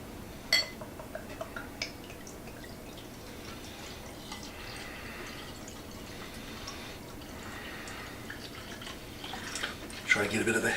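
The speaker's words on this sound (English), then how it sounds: "So now here comes the pour." Warped Wing Baltic Argonaut, a heavy Baltic-style beer, being poured into a glass: a soft, steady liquid trickle with faint clinks and drips, building toward a fuller splash at the end. A speaker talks over part of it.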